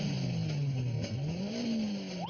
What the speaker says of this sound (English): Two Corvettes stopped at a light, revving their engines.